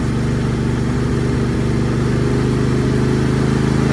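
Ryobi full-crank weed trimmer engine idling steadily with the choke pulled partly out and a still-dirty carburetor, a close, continuous two-stroke drone with a faint uneven flutter and no voices.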